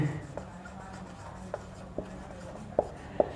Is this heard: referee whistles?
no